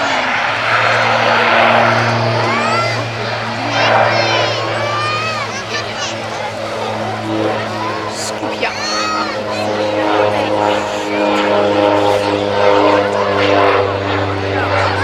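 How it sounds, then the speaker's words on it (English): OV-10 Bronco propeller aircraft making a low-speed airshow pass with undercarriage down at East Fortune, a loud steady propeller drone with shifting whine over crowd noise, while an announcer talks throughout. "here we see Tony De Bruyne coming in from the right with the undercarriage down for a low-speed pass"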